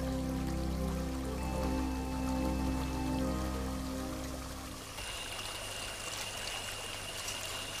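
River water flows steadily in a Mexican wetland, a continuous broadband rush and trickle heard alone, with a low hum in the first half that fades out.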